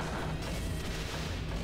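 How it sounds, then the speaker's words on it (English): Explosions in the video game Sonic Adventure 2 form a continuous loud, rumbling barrage of booms and blasts that fills the whole short stretch without letup. "Ooh, explosions, baby. Yeah, blow him up good."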